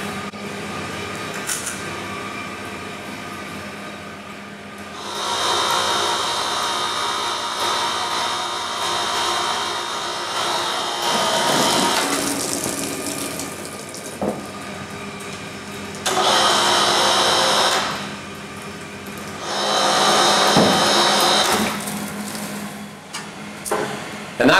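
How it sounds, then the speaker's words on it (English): A trolley hoist on a 5-barrel BREWHA BIAC microbrewery lowers and tips the mash colander to dump spent grain, giving a steady motor hum with several louder surging, rushing bursts and clanks over about twenty-five seconds, no voices. "And that's it for dumping out the grain."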